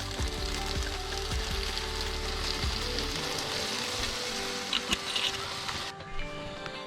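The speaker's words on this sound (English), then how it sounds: "So I'm just going to cook off that wine." Squid calamari cooking with tomato paste and wine in a hot pan, giving a steady loud sizzle and crackle that fades in the final seconds, with a few soft clinks and no voices.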